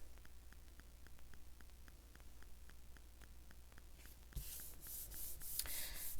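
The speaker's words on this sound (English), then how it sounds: "Give it a good back rub." Glued paper is rubbed onto a greeting card in quick, evenly spaced strokes, a soft repeated scratchy swish close by, followed by louder brushing noises near the end.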